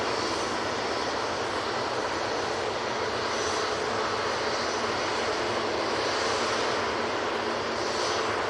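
An EasyJet airliner departing Manchester Airport for Geneva gives a steady, broad jet roar that holds at an even level throughout, with no voices.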